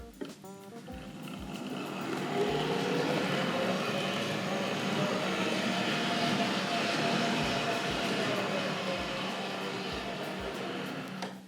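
Tri-ang model train running backward on its track with ribbed wheels, a continuous metallic whine that rises after a few clicks of rail joints and holds steady, close by with no talk.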